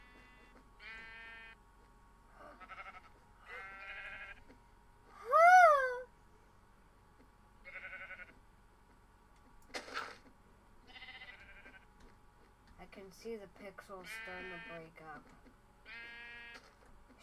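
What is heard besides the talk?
sheep bleating in Minecraft, from a video game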